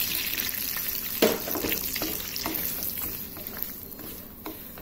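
Semolina, grated coconut and cashews roast together in a pan over low heat, making a continuous soft frying hiss with occasional scraping stirs and clicks.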